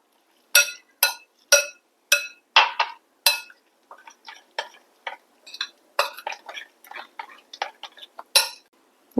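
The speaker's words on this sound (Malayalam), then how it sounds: "ഇനി നമുക്കിതൊന്ന് പതുക്കെ മിക്സ് ചെയ്ത് കൊടുക്കാം" A spoon clinks sharply and repeatedly against a bowl while oats and egg batter are mixed, with quick, irregular taps close by.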